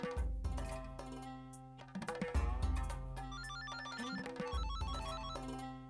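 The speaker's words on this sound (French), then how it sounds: "Anouchka, Ormé, tu veux bien répondre au téléphone?" A telephone rings with a bright electronic ringtone melody in a repeating pattern, loud and close, with no talking over it, in a domestic scene from an Indian drama series.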